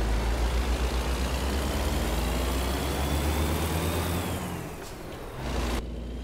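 A Kenworth T800 truck with an aero cab pulling a box trailer in American Truck Simulator rumbles with a deep, steady diesel drone, shifting and easing off near the end.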